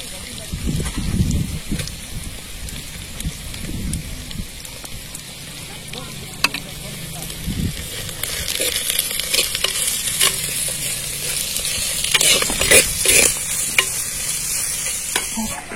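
Chopped tomatoes stir-frying in a pan for a village-style okra fry, a continuous hiss and crackle of frying with scraping stirs and occasional louder pops, close, with a voice talking over it at times.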